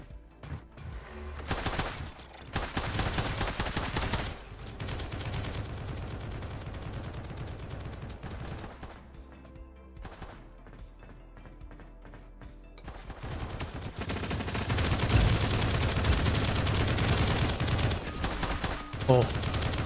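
Sustained SMG and pistol gunfire in the shooter game Project Onyx, dense bursts of rapid shots with a brief lull partway through before growing louder and more intense toward the end.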